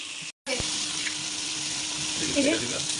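Pieces of hill chicken meat sizzle steadily in a pan with spices such as cinnamon and cardamom, a continuous close frying hiss after a brief cut.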